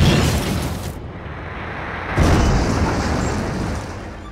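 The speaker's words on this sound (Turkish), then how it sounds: "İnanılmaz büyük bir patlama ile mahşer başladı." The first atomic bomb test explosion rolls out as a loud, broad rumbling roar that dips briefly then surges again with a fresh blast wave, sustained and heavy throughout.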